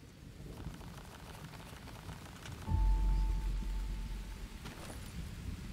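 Rain falling in the jungle survival game Green Hell, a soft continuous patter that swells suddenly into a heavier, deeper rush partway through, with a low rumble beneath it.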